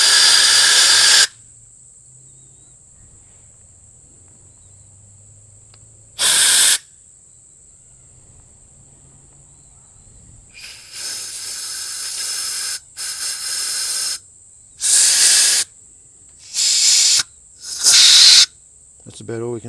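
Compressed air blown back through holes in the spray system of an old VW fire truck left sitting for over 20 years, a loud steady hiss followed by a series of sharp hissing bursts separated by short pauses.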